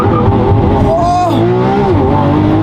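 A Lamborghini Aventador engine roars loudly in a launch control start, revving hard and climbing in pitch as it accelerates, close and aggressive, with a gear-shift dip midway.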